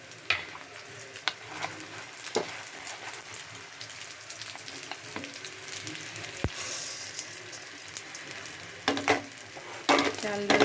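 Washed rice and dal going into a pan of frying onions for winter khichuri: a continuous quiet sizzle with occasional sharp clicks and scrapes of stirring, close but faint.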